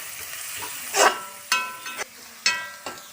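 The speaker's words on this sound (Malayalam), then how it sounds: "അപ്പോൾ നമുക്ക് ഈ സവാള വാടി വരുന്ന വരെ നല്ല പോലെ ഇളക്കി കൊടുക്കാം." Onions frying in a pan for a pork roast, stirred with a utensil: a continuous sizzle punctuated by several sharp spoon scrapes and knocks at irregular intervals, close and clear.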